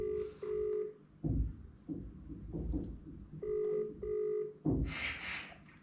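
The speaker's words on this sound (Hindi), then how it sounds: "जल्दी उठा फोन, तो काट रही है भाई काट रही है" A mobile phone rings repeatedly with electronic tone bursts during a prank call on a sister, and the tones cut off as the call is rejected. The ringing plays close and fairly loud between bursts of nearby noise, with no talk in between.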